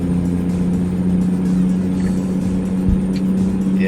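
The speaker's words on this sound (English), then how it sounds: "Yeah, this engine's pretty sweet." A Caterpillar truck engine in the video game American Truck Simulator drones with a steady low hum and a constant tonal note, loud and close, holding an even speed.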